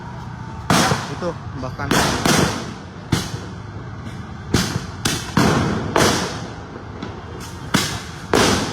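Firecrackers and Molotov cocktails thrown by protesters under the Slipi flyover in West Jakarta during a clash with police: repeated sharp loud bangs at irregular intervals over crowd noise, with a reporter speaking over them.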